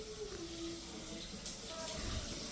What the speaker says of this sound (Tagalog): yan ang shower niya